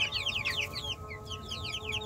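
Several chickens cluck and chirp in a steady scatter of short calls near fancy chicks, including Silkie and pheasant chicks kept among a small backyard flock of about fifteen, with a low hum underneath and no talking.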